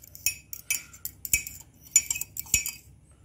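An egg being stirred with a utensil in a pan, heard as a series of sharp metallic clinks and scrapes in irregular bursts, close and fairly loud against a quiet kitchen background.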